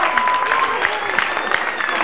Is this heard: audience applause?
yes